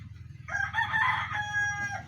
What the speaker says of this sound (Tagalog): Ay talagang manok ito.